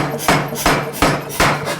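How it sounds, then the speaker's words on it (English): A power hammer forging a metal bar, four heavy, evenly spaced blows about every 0.37 seconds, loud and close with ringing decay between strikes, no voices. "Obviously, this is a hammer."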